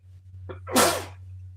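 A single close sneeze with a short sharp intake of breath just before it, over a low steady hum.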